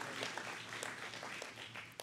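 Audience applause at a camp meeting, a steady patter of hands clapping across a crowd with a low hum underneath, moderately faint and continuous throughout.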